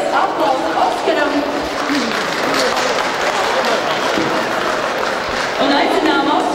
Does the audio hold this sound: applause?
yes